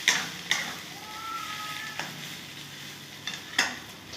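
Pointed gourd (potol) paste being stir-fried in a pan, with soft scraping stirs at intervals over a faint steady sizzle; a brief high tone drifts in the middle.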